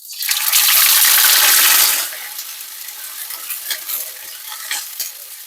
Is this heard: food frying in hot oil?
yes